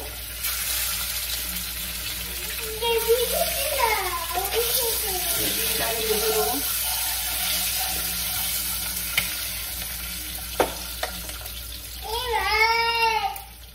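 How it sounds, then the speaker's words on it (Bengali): Eggs and potatoes frying together in hot oil for a quick egg curry give a steady close sizzle, with scraping and stirring sounds rising over it at moments. "এবার আমি ছেড়ে দেবো পুরো একেবারে ডিম আর আলু একসাথে। ডিমটা আগে ভেজে নেবো"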